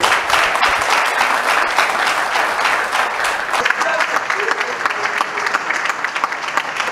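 An audience at a speech by a provincial governor of Lualaba applauds with dense, sustained clapping throughout, and a voice talks over the applause in the second half.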